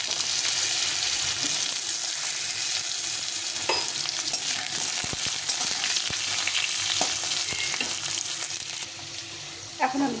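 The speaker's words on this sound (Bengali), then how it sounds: "আলুটাকে প্রথমে একটু ভেজে নেবো" Diced potato pieces fry in hot oil in a pan for a Bengali chorchori with jackfruit seeds and Malabar spinach, a steady close sizzle running throughout with occasional stirring clinks and scrapes.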